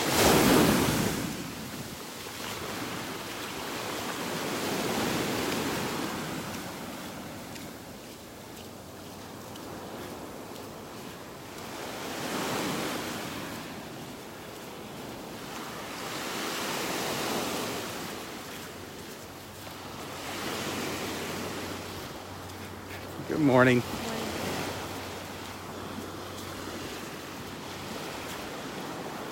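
Ocean waves roll onto a beach in North Naples, Florida, each swell building and washing in at roughly five-second intervals against steady wind noise, with a brief greeting spoken once near the end.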